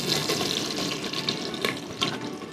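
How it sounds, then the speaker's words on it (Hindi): Onions frying in hot oil with whole coriander seeds for a chicken chole masala, giving a steady, fairly loud sizzle with scattered crackles and pops throughout, with no talking. "और प्याज डाल के हम इसको थोड़ा सा सुनहरा होने तक भुनेंगे।"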